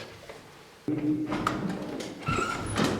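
A house door is opened by carol singers in Lviv, with a sudden clunk of the latch followed by creaking and rattling of the door, close and moderately loud, then a second knock-like thud.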